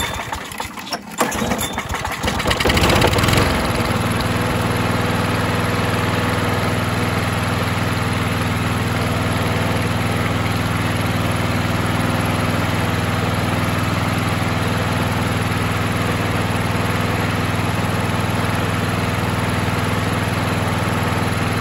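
A 2000 Craftsman lawnmower engine with a sticking carburetor float catches after a brief clatter, then settles into a steady, loud, low idle close by for the rest of the span. No one speaks.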